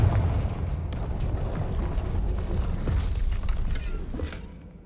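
A Confringo fire spell explodes in Hogwarts Legacy, a dense rumbling blast with crackling debris that rolls on steadily for several seconds, fairly loud and without talk.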